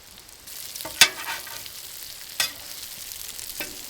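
French toast and potatoes frying on a 22-inch Solo Steelfire travel griddle by a creek, a soft steady sizzle with a few faint scrapes and clicks, quiet and without speech.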